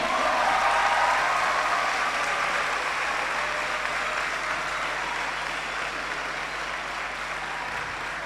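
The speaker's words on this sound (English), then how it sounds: "clap them, na man, clap them" Sustained applause from the audience at a Faculty of Medical Sciences pledge ceremony, a dense, even roar of many hands clapping that holds steady and eases only slightly over several seconds.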